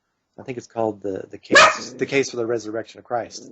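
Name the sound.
dog barking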